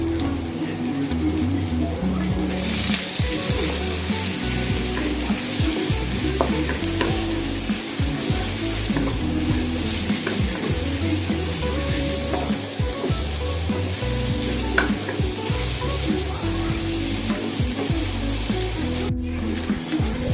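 Prawns sizzle steadily in hot oil while fried rice is stir-fried, a continuous crackling fry with scraping and stirring clatter from a spatula throughout, no talking.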